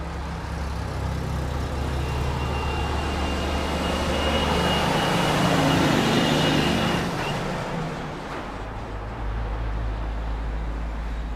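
A JetBlue airliner at Grand Cayman airport gives off a loud, continuous jet roar that swells toward the middle and then eases off, alone with no voices.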